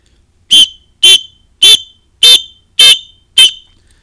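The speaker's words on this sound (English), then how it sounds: "they are blowing the whistle, that is a simulation of gunfire" Six short, shrill whistle blasts, used to simulate gunfire in a drill, repeat at a steady pace, loud and piercing, with silence between each blast and no talking.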